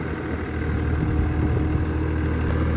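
A tractor stuck in rain-soaked mud on a dairy farm, its engine straining at full power in a steady, loud, close drone with no voices.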